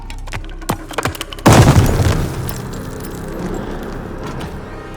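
A grenade blast in Call of Duty Vanguard during an airborne assault, one loud near boom with a rumbling, debris-filled tail, preceded by scattered clicks and clatter of combat.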